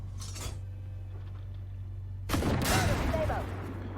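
Gunfire in a tank combat video game aimed at an XM1 tank: a low engine drone, a faint crack early on, then a loud burst of shots with metallic ringing and clatter that fades off.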